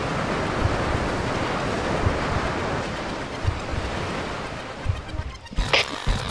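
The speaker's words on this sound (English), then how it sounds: "I played with the distance parameter till the waterfall sounded like it was coming from the right space" A waterfall built as in-game sound design in FMOD, a steady broadband rush of falling water with a constant even wash throughout, briefly broken near the end by a few louder splashy bursts.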